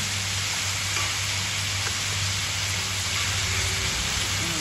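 Steady, loud sizzling of chicken frying in hot oil, a continuous crackling hiss up close with no pauses.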